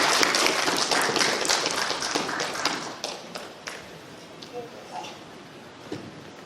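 An open mic comedy audience applauds, with dense clapping that starts fairly loud, thins out after about three seconds and trails off into scattered claps and faint room noise.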